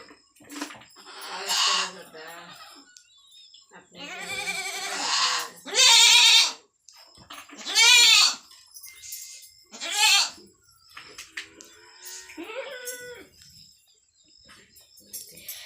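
Goats bleat loudly in a series of long, wavering calls, several close to the microphone, with quieter pauses and bits of talk between them.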